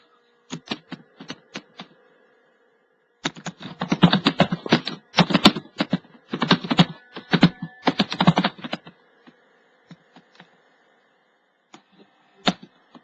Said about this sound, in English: Let me just type a message for those who don't know this.